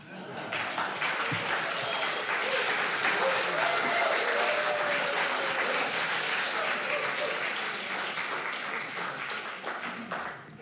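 Congregation at a Sunday church service breaking into sustained applause, a dense wash of many hands clapping that swells and holds for several seconds before tapering off, with a few voices mixed in.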